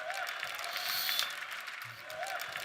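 An audience at a business conference applauds in a steady, moderately loud wash of clapping, while a voice talks over it and briefly rises above the crowd.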